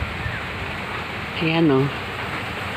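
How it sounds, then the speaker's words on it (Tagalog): Heavy rain falling as a constant hiss and patter, with someone speaking briefly over it. "Sa lakas ng ulan."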